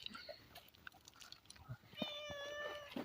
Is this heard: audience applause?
no